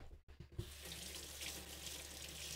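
A kitchen tap runs steadily as a finger is rinsed under the stream, a continuous close splashing after a brief pause at the start.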